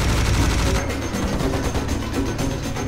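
Heavy gunfire rattles through a first-person shooter game, Serious Sam HD on Xbox 360, with dense, rapid bursts of shots and booming impacts piling into a loud, continuous barrage.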